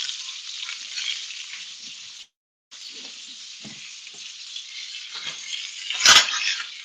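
Fish fillets for homemade fish fingers fry in a pan with a steady, close hiss of sizzling oil. The sizzle breaks off briefly, then resumes, and a sharp metallic clink sounds near the end.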